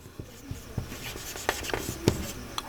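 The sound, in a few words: writing math solution by hand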